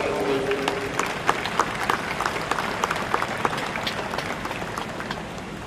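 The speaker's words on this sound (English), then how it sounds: "Round of applause for the congratulations." An audience gives a round of applause at an award presentation, dense clapping filling the room at steady strength with a few sharper claps standing out, while a voice speaks briefly underneath near the start.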